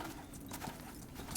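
Hooves of a pack donkey carrying supplies clip-clop steadily along a trail, a continuous moderate rhythm of hoof strikes with faint background ambience and no talking.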